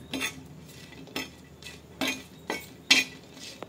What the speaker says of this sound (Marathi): आता आपण मिरच्या भाजून घेऊ। मिरच्या पण न तेल टाकताच भाजायच्या आहेत।